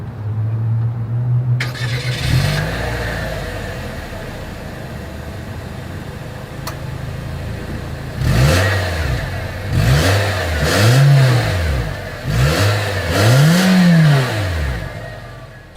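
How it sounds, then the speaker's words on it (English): A 2023 Nissan Versa cranks and starts, settling into a steady idle, then its exhaust rises and falls through several short revs in a row, close and fairly loud, with no talking. "As always, here is that exhaust clip."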